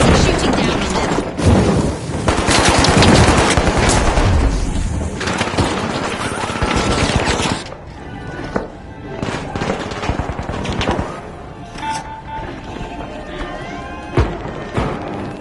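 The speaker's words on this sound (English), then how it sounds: "UFOs are hovering above our contestants and shooting down on them." UFOs hover over contestants and fire down on them in the video game The Finals: a dense, loud barrage of booming blasts and crackling gunfire that thins after about eight seconds into sporadic shots and rumbles.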